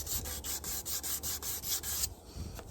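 Sanding curb rash and a rock chip out of a wheel rim, a steady rhythmic rubbing in repeated back-and-forth strokes, close and fairly loud, stopping near the end.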